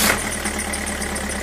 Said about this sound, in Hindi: इंजन की साउंड चेक कराओ मुझे